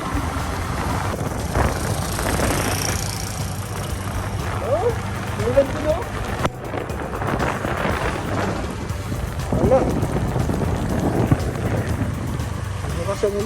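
Steady light rain patters over a constant wet hiss, with a voice speaking now and then over it.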